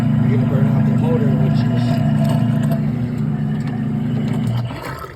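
A utility tub pump motor runs with a steady, loud hum and whine nearby, fading slightly toward the end, with no talk over it.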